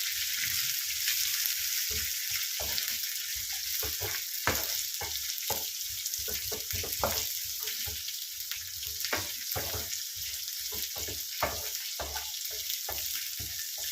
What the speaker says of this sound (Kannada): ಇನ್ನು ಚಂದ ಫ್ರೈ ಮಾಡಬೇಕು, ಹಸಿ ವಾಸನೆ ಹೋಗುವಷ್ಟು ಫ್ರೈ ಮಾಡಬೇಕು